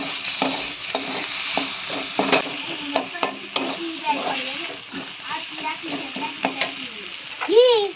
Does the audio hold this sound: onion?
yes